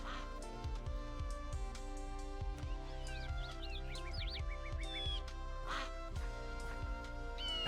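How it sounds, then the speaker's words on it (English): Ducks and other birds in a Minecraft spruce forest quack in short repeated calls with chirps and tweets mixed in, fairly faint over a steady low game ambience. "At first I thought this fox would immediately attack the ducks and birds"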